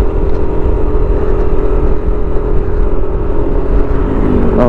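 A Yamaha Nmax scooter climbs a very steep, zigzagging road, its engine droning loud and steady under load throughout, with no talking.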